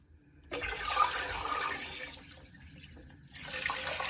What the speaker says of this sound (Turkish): üzerine geçecek kadar su ilave edip ocağa yerleştireceğiz